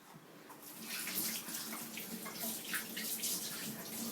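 A kitchen tap runs while hands are washed before cooking fish, a steady close gush of water with splashing variations, loud and continuous with no talking.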